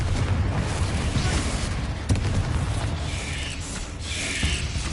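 In Hogwarts Legacy, Confringo spell blasts land amid combat, a dense, loud low-frequency rumble with a punchy impact around the middle and continuous chaotic battle noise throughout.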